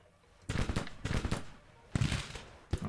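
Rifle volleys crackle in a Civil War battle in the strategy game Grand Tactician, with Lawrence rifles firing: three or four loud bursts of rapid, overlapping shots, each a cluster of sharp reports, heard without talk.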